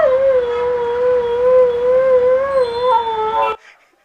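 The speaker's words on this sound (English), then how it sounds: "That dog was not hurt, it's AI." An AI-generated dog howls in a video played back to an audience, one long sustained wavering tonal howl heard loud and clear, cutting off abruptly at the end.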